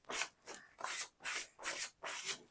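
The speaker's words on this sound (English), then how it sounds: "you need to give it a little bit of sand back and forward just to kind of give it a little bit more tooth" A new stamp sanded by hand, pushed back and forth in six even strokes, each a soft, close, gritty rub separated by brief gaps, with no talking.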